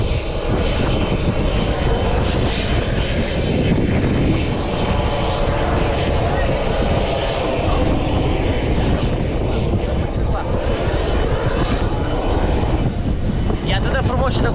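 Airplanes at Geneva airport fill the scene with a loud, continuous jet engine roar and whine, steady throughout with a faint voice mixed underneath.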